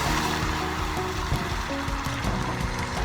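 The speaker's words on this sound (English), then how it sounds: "I'm going to stop it at the moment by adding the water." Water poured into a pot of hot caramel for an orange dessert sends up a loud, continuous hissing sizzle and rush of steam, dense and steady throughout with no talking.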